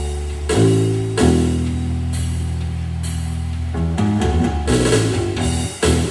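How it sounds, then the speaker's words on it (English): A bass guitar and drum kit play together, deep bass notes under steady cymbal and snare hits, full and continuous with no voices. "It's just the bass and drums, and it sounds like this."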